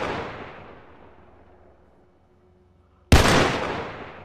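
Roblox Paracam video game gunshot: a loud, sharp single blast bursts in suddenly after a long decaying rumble of an earlier shot, then rings out with a broad fading tail.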